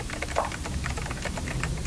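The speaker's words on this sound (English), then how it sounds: "Is somebody typing?" Typing on a computer keyboard inside the horror video game Night Security, a steady run of soft key clicks carrying on through the whole moment over a faint background hum, with no voices.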